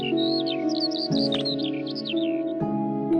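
Several birds chirp and trill in quick, high repeated phrases over a sustained tonal music backing, the song fairly close and continuous across the whole stretch.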